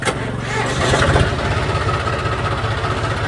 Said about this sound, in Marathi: आता चालू झालं कारण की ट्रॅक्टर बराच वेळ आपण चालू ठेवला होता